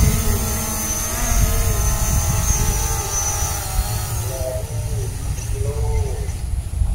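A DJI Mavic Pro drone flying back gives off a steady high propeller whine with wavering tones, close and constant under wind rumble, while someone talks intermittently.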